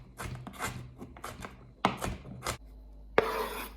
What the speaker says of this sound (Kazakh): Пиязды осылай. Қолда да 4 бұрышты ғып тураймыз.